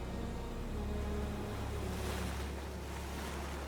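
Sea waves wash against the rugged, cliff-lined coast north of Barcelona, a soft, distant surf hiss with low rumble, steady and faint with no voices.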